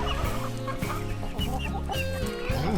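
Young pullet chickens clucking in a steady run of short, close, rhythmic clucks and soft squawks, loud and continuous, with no talk.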